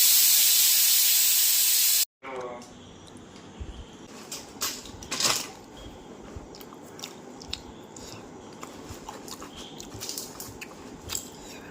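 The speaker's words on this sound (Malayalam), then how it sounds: "ഇപ്പോൾ വിസിലടിക്കും. കുക്കറിലാണ് ഉണ്ടാക്കുന്നത് സോയാബീൻ ബിരിയാണി." A pressure cooker cooking soybean biryani releases a loud, steady steam hiss for about two seconds, which cuts off abruptly into quieter scattered clicks and small kitchen noises.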